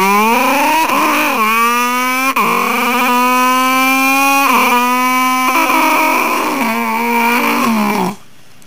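Vocal mimicry of a superbike, a loud close buzzing engine note revving up and down in several surges with gear-change dips, steady and unbroken for about eight seconds before cutting off abruptly.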